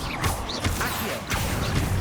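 Confringo spell blast in Hogwarts Legacy: a loud, crashing burst with whooshing swells and impacts, busy and close throughout.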